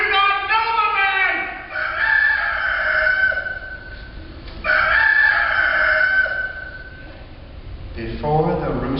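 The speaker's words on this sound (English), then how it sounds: "Before the rooster crows twice, you will deny me 3 times." During a Good Friday Passion reading, a rooster crows twice in long, strained calls, with a voice speaking over and between the crows.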